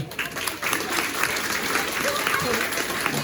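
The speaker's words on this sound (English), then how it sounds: "I think that's a huge round of applause" Sustained applause from the audience at a young carers showcase event, a steady dense clatter of many hands with some voices mixed in, holding at an even level throughout.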